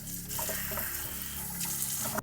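Water from a kitchen tap runs steadily into a sink for a quick rinse, a continuous broadband splashing rush close by that cuts off abruptly at the end, with no one speaking.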